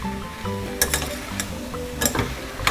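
Ginger and garlic paste fry in a pan of taro and okra curry with a steady sizzle, broken by a few sharp scrapes and clinks as a spoon stirs the pan.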